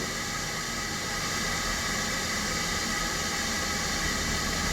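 Steady, dense hissing rush of water at a rolling boil in an electric kettle, loud and continuous without pause, no voices.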